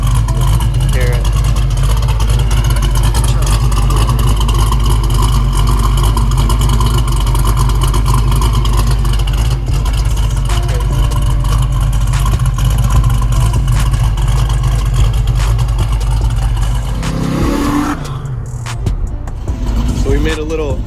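A 1969 Camaro Z28 with a 680 hp LS3 V8 and glass-pack exhausts idles loud and close with a steady, rumbling drone, a brief revving surge near the end, with a voice talking over it.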